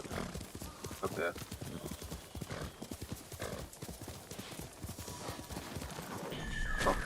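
A horse's hooves clip-clop in a steady rapid rhythm through Ghost of Tsushima near Omi village, close and loud, with a brief whinny and a voice speaking over the gait.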